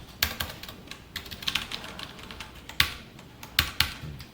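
Fingers type on a computer keyboard during a beginner Python coding lesson. The irregular clicks and taps are quiet and close, with a few louder key strikes, and no one talks.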